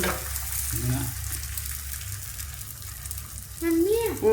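Food frying in a pan on a gas stove, sizzling steadily close by while a voice talks over it.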